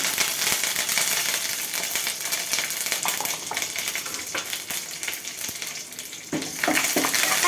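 Dried red chillies and curry leaves crackle and sizzle in hot tempering oil after mustard seeds, a steady loud frying hiss with sharp pops and a burst near the end.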